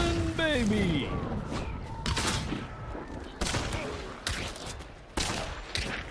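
Shotgun blasts in the game Hunt: Showdown, several heavy booming shots spaced a second or so apart, close and loud, with people talking over the gunfire.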